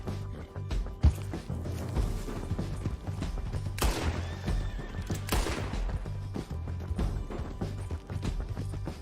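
Horse neighing in the video game Red Dead Redemption 2, a loud whinny and snorts over clip-clop hooves and a steady low game soundscape, with a few sharp gunshot-like bangs.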